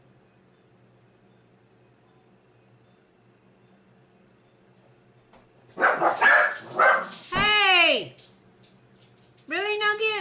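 Indoor dog sounds: after quiet, a burst of barks and yelps is followed by rising whimpering cries, then another whine near the end, with a brief shout from a person.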